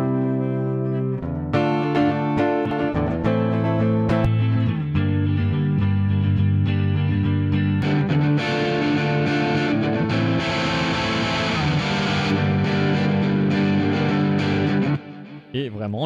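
An electric guitar runs through an amp simulator multi-effect with a stereo pitch effect, playing sustained, distorted chords and ringing notes that swell and shimmer continuously.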